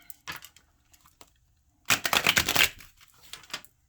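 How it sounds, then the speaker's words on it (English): A Hermetic Tarot card deck is shuffled close by, with a dense riffling burst of card flutter in the middle and scattered soft taps and flicks before and after. "Shuffle the Hermetic Tarot deck."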